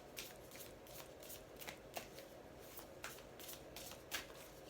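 A deck of tarot cards being shuffled close up, soft papery riffles with a few sharper snaps at irregular intervals over a faint steady background, no talking.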